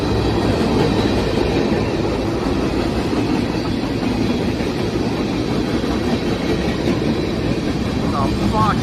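A freight train hauling potash hopper cars rolls past close by with a steady rumbling roar and rhythmic clickety-clack of wheels on rail joints, with brief talk over it.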